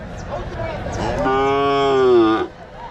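At a native cattle market in Mattrapalli, a calf lets out one loud, drawn-out moo of about a second, close by, over low background crowd noise.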